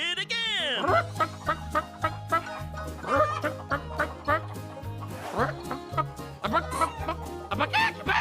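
A hen clucks in a children's nursery rhyme, with a rapid run of sharp clucks and bouncy repeated beats over a bass line, a lively rhythmic mix that sounds partly voiced or imitated.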